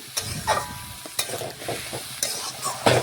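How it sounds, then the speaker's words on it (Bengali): Vegetables and chopped tomato with a splash of water stirred in a frying pan, a steady sizzle broken by repeated scraping strokes of a spoon against the pan, close and fairly loud. "এখন ভালোভাবে নাড়াচাড়া করে নিচ্ছি"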